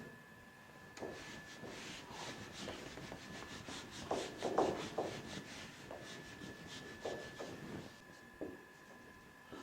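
Writing being rubbed out on a board, a faint run of rapid back-and-forth scrubbing strokes with a few sharper rubs in the middle, alone in a quiet room.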